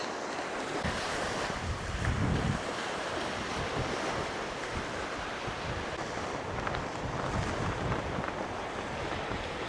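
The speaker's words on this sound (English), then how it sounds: "the wind's pushing me and the rod and the line" Strong gusting wind buffets the microphone over steady surf breaking on the shore at Cambois Beach in Northumberland, a continuous loud roar with no voices.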